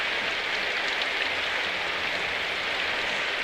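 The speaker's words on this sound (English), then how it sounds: "As the rain bounced off the cobblestone streets" Rain falling on cobblestone streets in the game Symphonic Rain, a dense, even hiss of drops that runs on its own for a few seconds without any voices.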